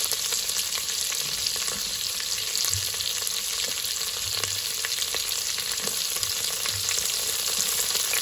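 Chopped onion and green chillies sizzle and fry in oil inside an electric pressure cooker, a steady close crackling hiss with occasional stirring scrapes and no talking.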